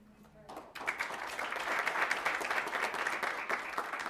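Audience at a school board meeting bursts into steady, sustained applause after a brief quiet moment, a room full of clapping hands continuing at even strength.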